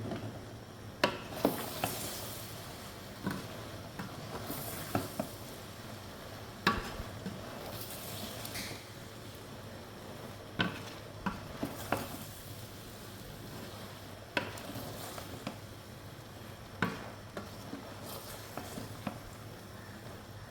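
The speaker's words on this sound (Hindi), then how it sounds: "दोस्तों बैंगन ऐड करने के बाद इसको अच्छी तरीके से मिक्स करेंगे।" Eggplant and potato are stirred in a pan, soft rubbing and scraping with scattered sharp taps of a utensil against the pan, faint and close over a low background hum.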